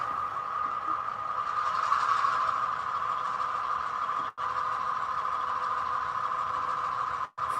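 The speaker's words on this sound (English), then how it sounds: "F26. Engine RPM notch up." A model train engine's simulated diesel drone holds a steady hum, swelling slightly as the RPM notches up, with two brief cutouts of silence interrupting it.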